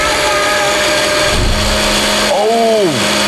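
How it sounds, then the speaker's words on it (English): A kitchen blender runs loud and steady close by, then its motor pitch sweeps up and falls away as it stops, with a voice partly buried under the whine. "Oh, drowned out by the blender."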